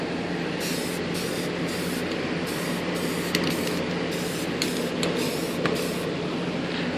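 Heat gun running on its high setting, blowing hot air to dry fresh paint on an RC glider model; a steady, even broadband hiss of airflow with faint intermittent clicks and rattles, continuous and fairly close.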